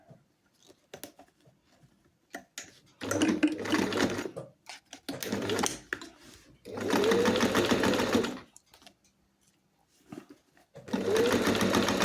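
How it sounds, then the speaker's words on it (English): A sewing machine stitches a belt loop in several bursts of rapid, even stitching, a few seconds each, separated by quiet pauses with small handling clicks while someone talks softly. "And then sew again."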